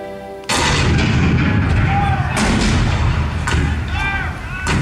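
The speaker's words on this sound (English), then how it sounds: "The cannon spoke for war, bitter, violent, and devastating." Cannon fire sound effect from the Hall of Presidents show at Magic Kingdom, Disney World: a sudden loud boom followed by further heavy blasts and rumbling, with a narrating voice behind the booms.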